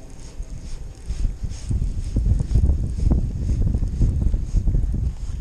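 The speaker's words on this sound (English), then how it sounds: "I am casting into the wind. It's probably about a 10 mile an hour wind, roughly." Steady wind gusts buffet the microphone at a lakeside while a bass angler casts a Rapala BX Brat square bill crankbait, a broad rumbling roar swelling and easing throughout with no talk.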